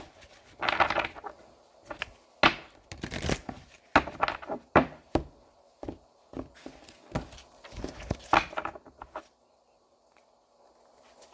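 A deck of tarot cards is shuffled close by in quick, uneven riffling bursts of soft flicks and patters for about nine seconds. It then stops and leaves near silence, with no voices.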